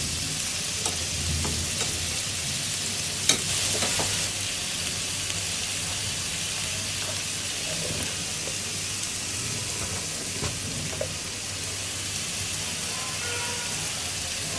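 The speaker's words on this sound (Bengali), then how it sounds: "মশলাটা সুন্দর মতো কয়েন ভাজা ভাজা হবে আস্তে আস্তে আমরা হলুদ মরিচের গুঁড়ো ধনে গুঁড়ো দিয়ে দেব" Ground spices with turmeric, chili and coriander powder fry in oil for an onion gravy, giving a steady, moderate hiss with faint scraping and a few clinks, and no voices.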